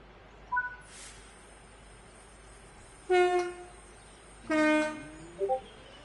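Locomotives in Train Sim World 3 on the Manchester Piccadilly to Glossop line, sounding three horn blasts: a short early toot, then two longer, loud two-tone blasts, over a quiet background rumble.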